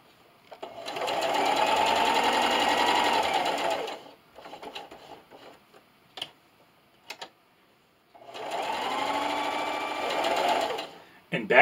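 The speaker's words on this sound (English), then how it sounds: "And continue to sew." A sewing machine stitches felt for freeze-pop holders in two fast, even whirring runs. Quieter pauses and small clicks separate the runs.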